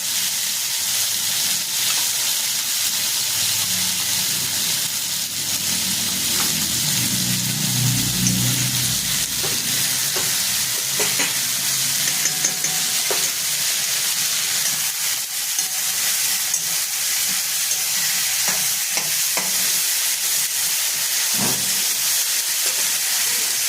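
Cauliflower, potatoes and spices frying in a pan give a constant loud sizzling hiss, with a brief low rumble early on and occasional soft clicks of stirring, and no voices.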